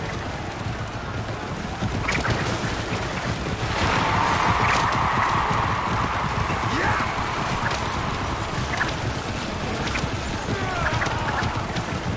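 Horses gallop in a chariot race around a track in Alexandria in Assassin's Creed Origins, a dense rapid drumming of hooves with a whoosh of wind, steady and loud throughout.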